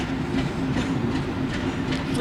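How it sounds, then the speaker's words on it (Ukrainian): A single-carriage passenger train pulls out toward Semenivka, its steady close rumble of wheels on rails carrying a soft clickety-clack throughout. "Потяг рушає до прикордонної громади вперше від 24 лютого."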